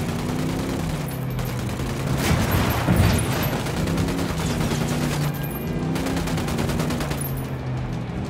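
Sustained automatic gunfire from a firefight in the video game Ghost Recon Wildlands, loud, dense and continuous bursts of rifle and machine-gun fire overlapping throughout with no pauses.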